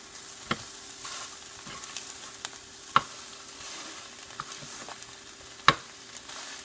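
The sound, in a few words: scrambled eggs frying in a pan after flipping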